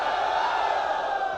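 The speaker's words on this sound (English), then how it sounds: "I want to hear the loudest cheer that we can have." A hackathon audience lets out one loud, sustained cheer, a dense roar of many voices held steady throughout.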